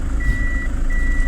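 A truck's reversing beeper sounds while it backs up on a street in Highgates, Jamaica: a steady high tone running continuously, breaking briefly, then resuming over a low idling engine rumble and road noise.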